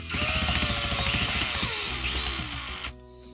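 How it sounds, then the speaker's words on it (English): A spinning tire pressed against sandpaper gives a loud, steady grinding whine with a slowly falling pitch and a rough hiss underneath, then cuts off sharply near the end. "Yeah, you can run over the sandpaper."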